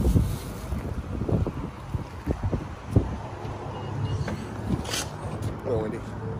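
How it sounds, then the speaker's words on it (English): Wind buffets the microphone at an outdoor gun range, a steady rumbling gust noise with a few low thumps and knocks, while voices murmur underneath. "It is windy today."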